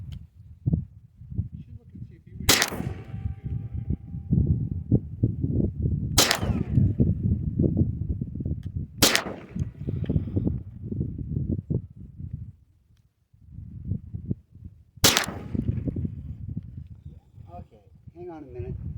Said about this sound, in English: Anyway, let's see how this thing shoots.